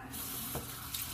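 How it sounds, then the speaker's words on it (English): Tap water runs steadily into a bathroom sink to rinse off after a wet shave, a continuous close hiss with slight splashes and no talking. "I'm going to rinse off and I'll be back for the post-shave"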